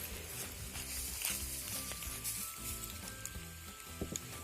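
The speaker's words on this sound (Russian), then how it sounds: "А я буду там вот мешать ту картошку. Вот. Она здесь жарится." Potatoes frying in a pan outdoors at a picnic, a steady close sizzle with scraping stir noises and clatter of the utensil throughout.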